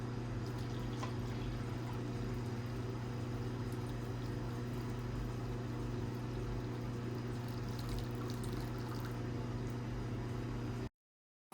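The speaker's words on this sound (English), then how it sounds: "Just going to pour it right through the filter here." Silver nitrate solution from dissolved silver pours steadily through a gravity filter, a continuous faint liquid trickle and hiss with no talking, ending abruptly.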